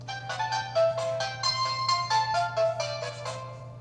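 A Ricoma Creator embroidery machine sounds its completion signal, a short melodic run of bright electronic beeps heard close and clear over a low steady hum.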